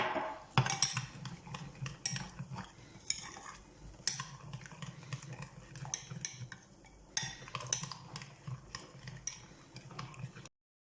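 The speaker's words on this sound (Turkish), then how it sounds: "Üzerine 1 su bardağı su ilave yaparak unu açıyorum." Flour is mixed with water in a mixing bowl, giving close, irregular clinks and scrapes of a spoon against the bowl that continue steadily for several seconds before stopping abruptly.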